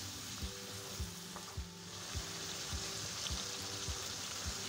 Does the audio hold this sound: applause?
no